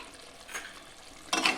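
Mutton curry masala with tomato puree being sautéed in a pan: a soft sizzle with two scraping stirs, the second louder and longer, close and alone.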